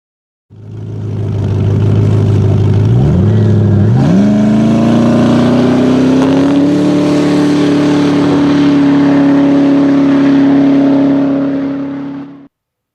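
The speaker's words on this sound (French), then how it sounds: "un V8 biturbo lui permettant des accélérations fulgurantes" A powerful Koenigsegg hybrid supercar's twin-turbo V8 accelerates hard, climbing through the gears with a loud rising roar that holds at a high pitch before cutting off.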